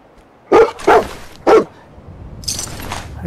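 A dog in the Fallout video game barks three times in quick succession, loud and close, followed by quieter scuffling and higher-pitched game noise.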